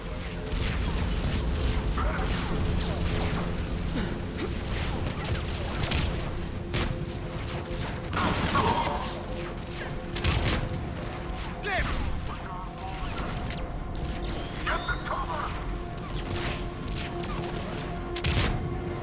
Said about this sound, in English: where are they dropping this artillery on their own position?